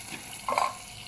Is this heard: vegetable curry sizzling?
yes